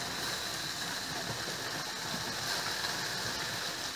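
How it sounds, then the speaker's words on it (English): A pot of water boiling hard on a home stove while lasagna is being cooked, giving a steady, dense bubbling hiss that runs continuously at moderate level with no pauses. "Settle down, boiling pot."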